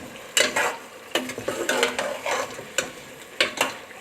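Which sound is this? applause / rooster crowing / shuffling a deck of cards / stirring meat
stirring meat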